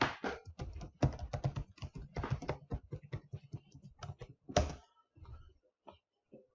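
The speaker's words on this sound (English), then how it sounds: "This should prompt me to type the user ID and password." Someone types a user ID and password on a computer keyboard, a quick close run of key clicks with a louder keystroke like Enter near the end, then a few sparse taps fading into quiet.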